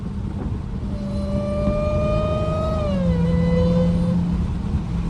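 A Dodge Hellcat with its hood removed drones loudly and close, a steady engine roar with a high whining tone that holds its pitch, then slides lower partway through and keeps sounding with no voices.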